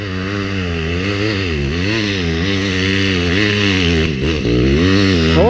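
A trail motorcycle at a trail riders' meet in Jerônimo Monteiro revs hard and close. Its engine note climbs and dips in repeated throttle blips over a steady roar, with no talk.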